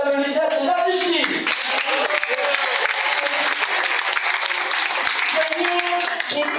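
An audience applauds at an evening sardine-grill gathering organised by a town hall, continuous clapping from a crowd that runs under someone speaking over a loudspeaker at the start and again near the end.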